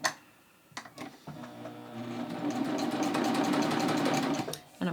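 A sewing machine stitches stretchy yoga pants fabric, starting with a few handling clicks and then running in a steady, fast mechanical rattle for about four seconds before stopping.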